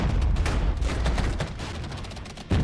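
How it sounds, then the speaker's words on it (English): Dense artillery barrage in the Cold War strategy game Regiments, a steady rumbling fusillade of overlapping booms that stays loud throughout, with a fresh heavy blast at the very end. "Let's counter battery their artillery."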